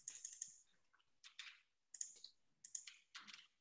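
Quick bursts of keystrokes on a computer keyboard arrive in short clusters separated by pauses, crisp, close and quiet, with no talk.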